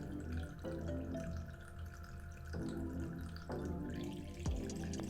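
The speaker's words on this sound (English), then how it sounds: "It should activate and it should start pumping the water up." Steady running water from a pump in an automatic orchid watering system, with a low mechanical hum beneath it, continuous throughout with no voices.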